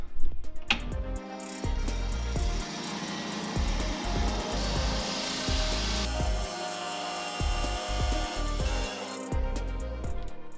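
A rock saw slices an agate nodule in half, a sustained gritty grinding whine under a low motor hum, close and continuous for about ten seconds before easing off.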